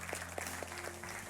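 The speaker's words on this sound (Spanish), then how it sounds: "Dale un aplauso fuerte a Cristo Jesús." Congregation members clap during a Spanish-language church service, a moderately faint patter of hands with a few distinct claps standing out over a steady sustained tone from music or an organ.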